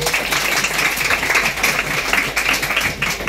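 Sustained applause from a seated audience at a Finnish panel discussion on politics, pensions and money, a dense steady wash of many hands clapping throughout.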